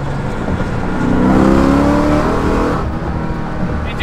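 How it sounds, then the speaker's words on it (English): A 1400-horsepower Dodge Demon drag car on street radials roars as it accelerates hard, the deep rising drone swelling mid-clip and then easing off, close and loud with no talking. "1400 horsepower on the street in a drag car with street radials"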